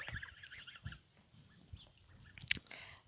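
Geese honk in short, nasal bursts from a flock being herded outdoors, a few calls near and some farther off, fairly faint against a quiet background.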